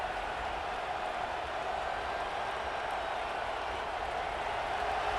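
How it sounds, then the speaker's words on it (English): A football stadium crowd at an Alabama versus Notre Dame game roars steadily as the defense holds in the red zone, a dense, continuous wash of cheering and applause with no clear peaks throughout. "And the crowd coming to life here, trying to help this defense down in the red zone."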